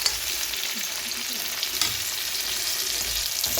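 Onion and green chili frying in a pan, a steady close sizzle and crackle that runs unbroken throughout, with occasional faint stirring scrapes.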